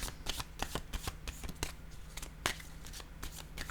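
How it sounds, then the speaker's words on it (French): Oracle cards being shuffled and picked, with a rapid flutter of riffled cards and soft slaps repeating close by throughout, alone with no voice. "Je vais choisir maintenant une carte, un message de l'univers."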